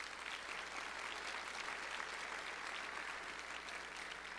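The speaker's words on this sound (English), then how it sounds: "can we have a round of applause for them" An audience applauding faculty and staff at a business forecast event, a dense steady clapping that fills the hall throughout.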